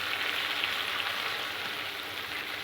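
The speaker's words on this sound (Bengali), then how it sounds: "তেল দিয়ে চিংড়ি মাছগুলো প্রথমে আমি ভেজে নেব।" Ordinary prawns fry in a little oil in a kadai, a steady, even sizzling hiss with no pauses, moderately quiet and close.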